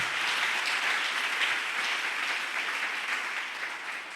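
A church congregation applauds loudly and continuously in praise of the Lord, a dense wash of clapping that holds steady before easing off slightly at the end.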